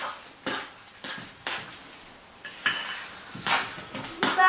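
A spoon working tuna spread around a bowl, giving repeated close scraping and clinking strokes in an uneven rhythm, growing busier toward the end, with no voices.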